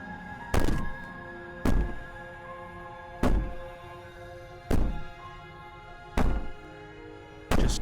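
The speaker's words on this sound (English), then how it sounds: "Maybe the banging and wailing will stop if you just don't pay attention to it." Heavy banging on a wall in Slay the Princess, six loud, deep thuds spaced a second or so apart in an uneven rhythm, each ringing briefly against a low steady hum.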